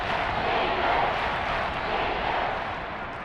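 A stadium crowd of Seahawks fans roars steadily during a football game, a loud dense wash of cheering that holds nearly constant and eases slightly at the end.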